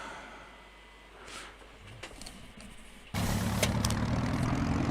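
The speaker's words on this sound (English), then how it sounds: "Sounds as if the right engine has started anyway." The right engine of a light aircraft in X-Plane 11 catches and starts, jumping from a quiet hum to a loud, steady running drone that holds on.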